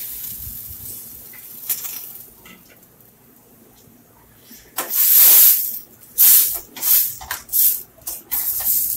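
Loud sizzling bursts erupt from a hot pan as ground masala paste is added for channa masala gravy, after a quieter stretch, hissing and crackling in uneven surges close by.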